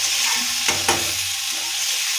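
Bean palya being fried and stirred in a pan, a steady close sizzle with a couple of quick scraping stirs of the spoon partway through.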